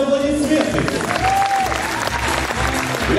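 Steady, dense clapping fills a hall as an audience applauds after a choreographed dance number, with a few voices and a sustained tone briefly audible above it.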